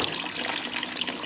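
Liquid streams steadily from the concentrate tube of a HiFlo RO30G reverse osmosis water purification system, a continuous hissing trickle of water, alone and fairly close.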